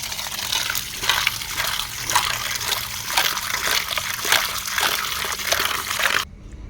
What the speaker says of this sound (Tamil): ஒரு கைப்பிடி அளவுக்கு இதை கழுவி எடுத்துக்கலாம்.